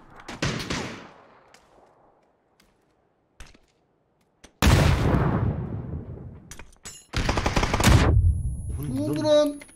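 Loud bursts of gunfire and a grenade blast in the battle royale game PUBG, arriving as sharp broadband cracks with long decaying tails in separate clusters, with quiet gaps between them and brief voice chat near the end.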